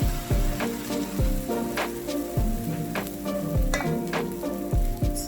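Pancake batter sizzling and frying in a hot pan, a steady crackling hiss close up, punctuated by repeated thumping clatters of utensil against pan, with no speech.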